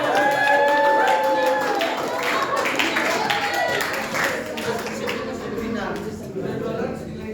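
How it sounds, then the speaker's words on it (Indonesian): Audience applause for Ibu Bella during a Bible quiz game, a dense wash of clapping that stays steady and fairly loud throughout, with voices and brief tones mixed in over it. "Tepuk tangan buat Ibu Bella"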